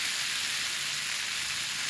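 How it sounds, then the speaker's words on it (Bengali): Boiled potatoes fry in hot oil with a steady, loud, continuous sizzle, close up and uninterrupted. "এই যে সুন্দর করে ভেজে নেব।"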